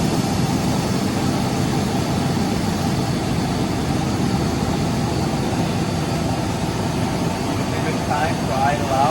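A DM1100ZC S Line machine runs dry and throws out a loud, continuous mechanical drone with a dense, even roar that holds steady throughout.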